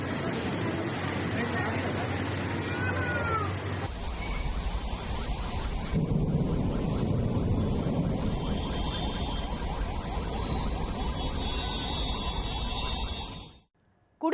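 Heavy monsoon rain pours down on flooded city roads in Asif Nagar, with a loud, steady rushing hiss that continues through several cuts and then drops away at the end, while a voice runs underneath.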